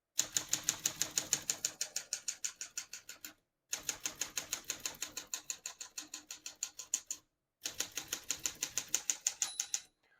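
Close, rapid key strikes on a 1939 Corona Standard portable typewriter, coming in three steady bursts separated by brief pauses, with no voices.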